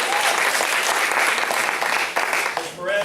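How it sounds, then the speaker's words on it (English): At a martial arts belt ceremony in Mount Dora, Florida, the audience applauds Miss Perez with loud, steady clapping that dips briefly near the end as a voice and cheer break through. "Give Miss Perez a big round of applause"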